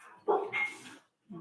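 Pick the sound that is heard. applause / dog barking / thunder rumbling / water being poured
dog barking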